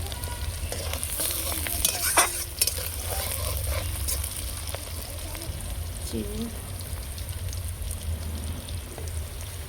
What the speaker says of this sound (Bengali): ক্যাপসিকাম পেঁয়াজ আমার বাদামি করে ভাজা হয়ে গেছে